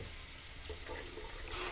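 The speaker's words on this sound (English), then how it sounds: "we got the faucet in the U.S. First time I've used it." Water runs steadily from a new kitchen faucet bought at Costco, a continuous close hiss of flowing stream into a sink with no voices over it.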